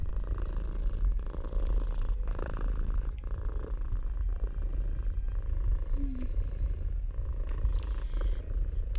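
Domestic cat purring in a low, continuous rumble, close and soft, steady throughout with faint background noise.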